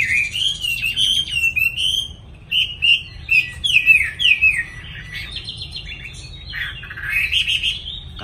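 Cage birds chirping and singing close by, a run of bright warbling and trilling tweets in quick phrases with brief pauses, clear over a low background hum.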